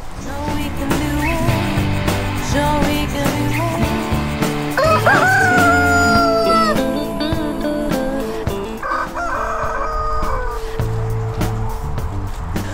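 Chickens cluck busily with a rooster crowing now and then, loud and close, over a steady farmyard background.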